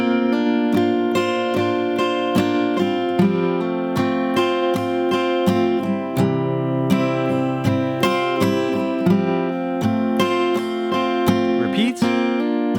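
Acoustic guitar picks out a song intro at a very slow tempo, with steady plucked notes and ringing chords sounding alone and close throughout.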